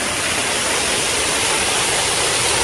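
Running water pours down at a resort, a loud, constant hissing rush close by, with no breaks or other sounds over it.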